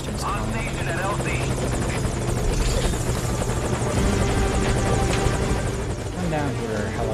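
A helicopter in Metal Gear Solid V: Ground Zeroes drones loudly and steadily with rapid rotor chop throughout, close by and constant, with no pause.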